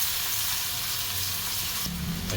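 Beef tongue frying with ginger and onion in a hot pan, a steady dense sizzle running throughout, with a brief stirring clatter near the end.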